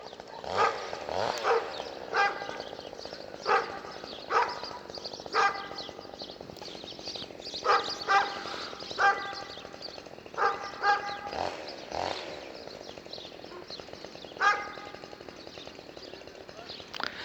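Village dogs bark repeatedly in clustered bursts at a middle distance, several animals overlapping, with a continuous outdoor background beneath.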